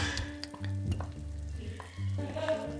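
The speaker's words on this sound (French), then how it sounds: "On va l'arroser de 2 cuillères à soupe." Spoonfuls of Calvados hit duck being cooked for duck à l'orange in a hot pan, raising a brief, close sizzle that swells and settles twice within a few seconds, with no talking.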